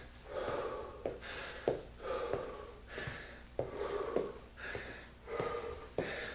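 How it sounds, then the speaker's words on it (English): Heavy, ragged breathing after a round of lower-body plyometrics, with sharp gasping inhales and forceful exhales repeating roughly every second, close and loud with no talking. "Catch your breath for just a second."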